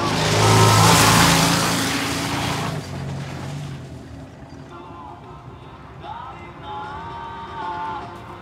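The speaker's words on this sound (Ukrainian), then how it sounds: "машина йде!" A car engine roars loudly up close, then fades into quieter background noise as voices call out afterward in Ukrainian.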